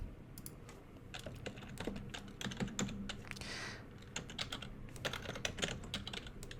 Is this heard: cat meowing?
no